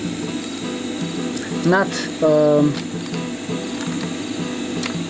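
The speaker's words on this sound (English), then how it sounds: "sew a box shaped stitch over it" A sewing machine stitching a box pattern to fix velcro onto webbing for a fanny pack, heard as two short mechanical bursts of rapid stitching close by, with a person talking around them.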